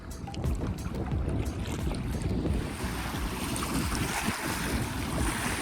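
Strong wind buffets the microphone while waves churn and splash around a paddling craft on the water, a loud, continuous roar with no breaks.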